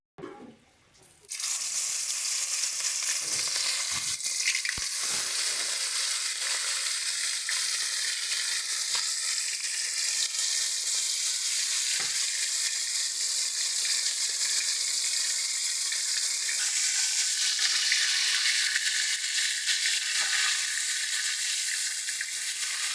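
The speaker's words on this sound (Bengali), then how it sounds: "এবার আমরা এক এক করে মাছগুলো দিয়ে ভেজে নেব" Pieces of bhola fish frying in hot oil, a loud, steady sizzle that rises sharply after a quiet start and holds at a constant hiss throughout, close up and without any voices.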